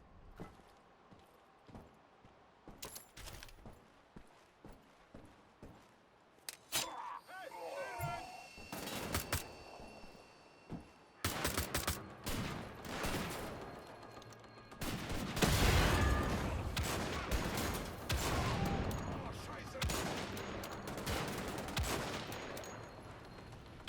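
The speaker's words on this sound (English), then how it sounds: "the soundtrack begins to swell with bullets flying everywhere" Gunfire in the video game Wolfenstein: The Old Blood: scattered shots build into dense, loud bursts of automatic fire with explosions over a swelling soundtrack, and a voice talks at points.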